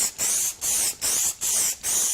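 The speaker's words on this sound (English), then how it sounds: "You can spray Q30 straight onto the PCBs." Q30 stretchable waterproof film sprayed from a can onto circuit boards, heard as five short, evenly spaced hissing bursts separated by brief pauses, close and fairly loud with no talking.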